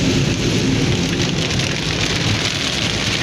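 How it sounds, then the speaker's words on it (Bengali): Heavy rain pours down on a car driving along a road, a dense, steady, loud roar of drumming drops that continues without a break and with no voices. "আহা কি সুন্দর বৃষ্টি, দেখতে পাচ্ছেন প্রচুর বৃষ্টি"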